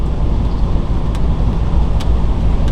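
Steady, loud road rumble and wind inside a 2013 Coachmen Leprechaun 317SA Class C motorhome cruising at 65 mph on cruise control, a continuous drone with no talking.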